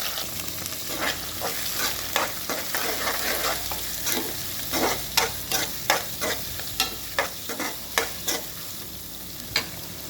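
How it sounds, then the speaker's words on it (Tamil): Two onions frying with garlic and curry leaves, a continuous bright sizzle broken by a regular run of sharp scraping taps as a spoon stirs the pan, close and clear. "நல்லா கிண்டி விட்டுருக்காங்க."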